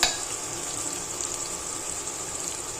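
Spices with Kashmiri red chilli powder, turmeric and homemade masala frying in oil in a pan, a steady close crackling sizzle that starts with a brief louder burst and keeps going without talk.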